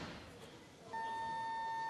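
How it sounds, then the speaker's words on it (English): A long electronic buzzer sounds at a weightlifting competition, the 30-second warning tone starting midway and holding steady and loud over faint arena murmur. "30-second buzzer."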